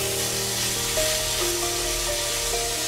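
Chicken mince frying with a cooked-down spice paste in a pan, giving a loud, steady close-up sizzle with faint scraping stirs and no voices.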